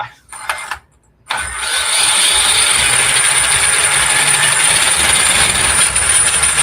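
An RC car electric motor spins up after a couple of brief bursts and then runs at a steady high whine with a loud mechanical drone, close by.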